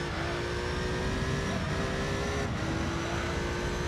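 A TVR Tuscan Speed 6 engine in Gran Turismo 3 holds a loud, steady drone from start to finish, its pitch shifting slightly, with no talking.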